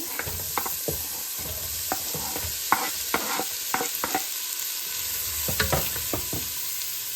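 Onion frying in a pan for a homemade beef stew, a steady sizzle with the scrape and knock of stirring breaking through at irregular intervals, close and moderately loud with no talking.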